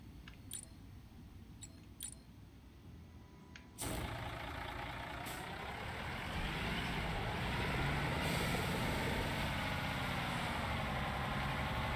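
A construction truck in Construction Simulator 2022 starts up after a few faint clicks, then its engine runs steadily and grows slightly louder as it drives, with no talking.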